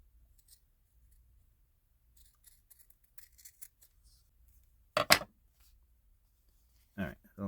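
Scissors snip through a craft piece in two short, crisp bursts of cutting, with faint rustling and handling noises in a quiet room beforehand.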